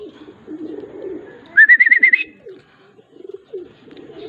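Racing pigeon arriving at the loft during a race, giving a short burst of about six clear, rhythmic coos at close range over soft background rustling and murmur.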